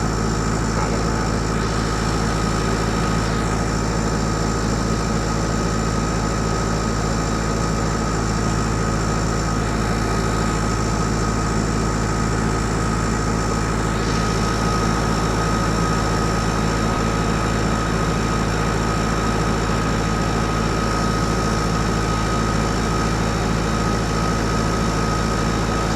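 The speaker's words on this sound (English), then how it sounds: "the drone comes back, we refill it, we send it back out" A DJI T100 agricultural drone spreading seed gives a steady, loud, droning hum of propellers and motor that holds without pause throughout, with a dense low rumble and no speech.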